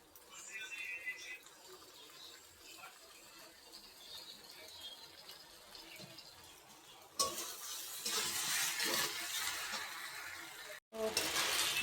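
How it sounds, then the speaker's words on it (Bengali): Pasta with tomato ketchup being stirred in a pan, faint scraping at first, then louder sizzling and frying noise after a sudden jump in level, with a brief cut near the end. "ভালো করে এখন নেড়ে চেড়ে"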